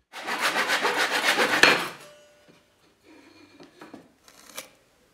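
A hand saw cuts oak lengths for a folding stand, its rhythmic back-and-forth strokes close and steady for about two seconds before stopping, followed by quieter wood knocks and handling sounds.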